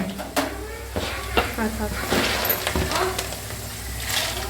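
Peanuts and roasted gram frying in plenty of oil, with a steady sizzle and occasional stirring scrapes close by, lasting throughout, partly under voices.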